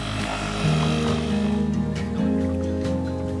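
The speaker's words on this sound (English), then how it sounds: "Dave's got his outboard, but it needs to be a bit lower in the water, so it is a bit noisy" A noisy outboard motor mounted on a sailboat and sitting a bit too high in the water drones steadily and close by, with a low rumbling hum that shifts pitch slightly throughout, no voices.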